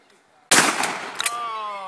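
A Remington 870 Wingmaster 20 gauge shotgun with an improved cylinder choke fires once at a clay target at the Richmond Hunt Club. The single loud, close blast has a ringing decay, and then a voice speaks.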